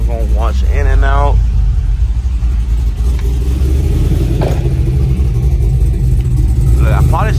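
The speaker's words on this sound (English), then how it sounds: "A little cold start for you." A car with a GM LSA supercharged V8 makes a loud, steady deep rumble up close throughout, while a person talks briefly over the engine noise.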